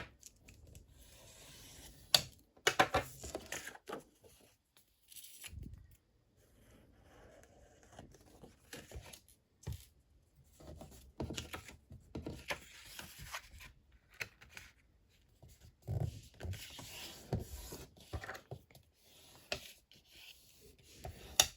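Paper being folded over and creased by hand while making a double accordion pocket folder: soft, close rustles, scrapes and intermittent rubbing strokes with quiet gaps between them.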